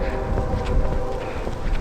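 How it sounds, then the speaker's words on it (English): A passing train heard outdoors in wind and snow: a steady, loud, dense rumble with faint rhythmic clatter, heavily masked by broadband wind buffeting, no talk. "Another train."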